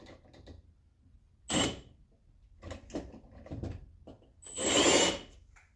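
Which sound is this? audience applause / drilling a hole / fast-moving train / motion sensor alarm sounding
drilling a hole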